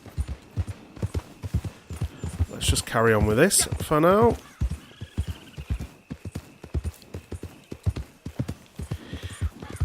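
Horse hooves clip-clop in a steady, close walking rhythm in the video game Red Dead Online, broken by a short whinny in the middle while someone talks over it.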